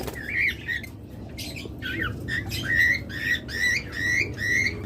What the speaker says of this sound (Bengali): অনেকগুলো দেখুন ইয়েলো কলার পাখি আছে